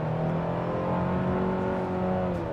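Engine of a 2025 Hyundai Santa Cruz SEL pickup pulling hard under throttle through a turn, a steady, close drone that climbs slightly in pitch over a few seconds with no voices.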